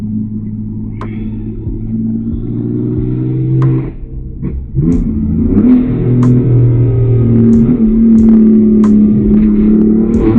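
A car engine revs close by while being driven casually, a loud, steady drone that dips briefly, then climbs again with rising pitch and quick shift-like breaks.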